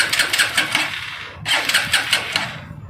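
A TVS motorcycle with a wiring fault and starting trouble cranks in two rapid, sputtering bursts, the engine catching only briefly before cutting out, close and loud.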